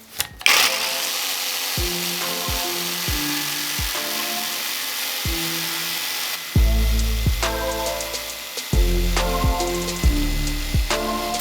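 A cordless Revolt jigsaw, a copy of a Makita, cuts with its dust blower switched on, running as a steady high whine broken by repeated short bursts and stops of varying pitch.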